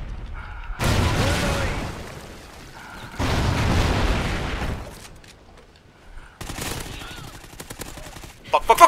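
Bursts of rapid gunfire from the video game Call of Duty Ghosts on Wii U, with two long loud volleys and a shorter burst later, separated by quieter gaps with some talk.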